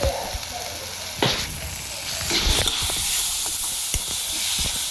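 Curry leaf and tomato chutney with chilli and garam masala sizzles and hisses in a pan on a high flame, with scraping stirs and steady frying crackle throughout.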